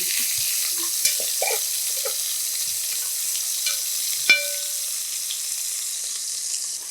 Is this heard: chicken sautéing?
yes